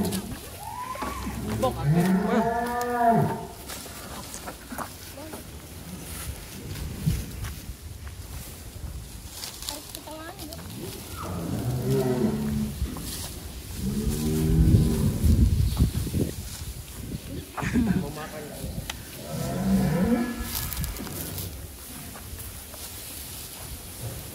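Cattle of about one ton each moo several times at a farm, deep drawn-out lowing calls that come in separate bursts over a steady low background rumble.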